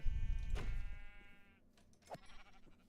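A Minecraft sheep bleats once, a wavering nasal cry, over low rumbling noise, followed by a faint soft thud.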